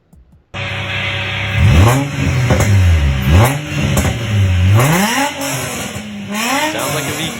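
Car with a Nissan VQ V6 engine revving hard several times in a row, each rev rising and falling in pitch, loud and close, followed by further throttle blips.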